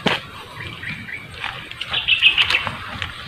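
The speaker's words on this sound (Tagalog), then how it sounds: "Narinig na mga boses ng ibon idol, no?" Birds call among trees in the Philippine countryside with a few faint chirps and a brief high trill, mixed with rustling and nearby movement noise.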